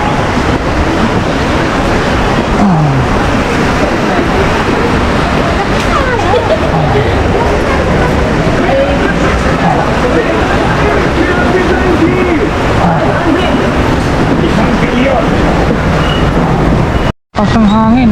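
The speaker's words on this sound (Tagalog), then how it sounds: "malakas ang hangin at ulan." Strong wind and rain from Typhoon Uwan during a Signal No. 4 storm roar as a loud, dense, continuous wash of noise, with people talking underneath and a brief dropout near the end.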